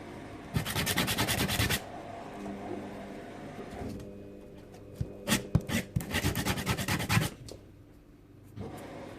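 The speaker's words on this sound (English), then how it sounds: "so I tend to just sand that down" Rapid, rasping sanding strokes come in two vigorous bursts on a small wood veneer ring, separated by quieter scraping and brief pauses.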